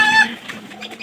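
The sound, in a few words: pigeons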